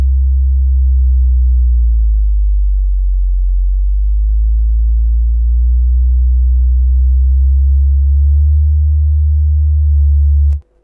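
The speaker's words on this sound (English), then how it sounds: "we hear that we've still got that nice clean sine tone." A homemade oscillator circuit puts out a steady, loud, pure sine tone that holds for about ten seconds with a slight pitch drift and then cuts off abruptly.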